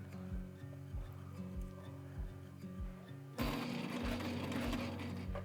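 A sewing machine stitches scrap fabric close by, a rapid steady mechanical whirr of needle strokes that pauses briefly, then starts again louder and more insistent.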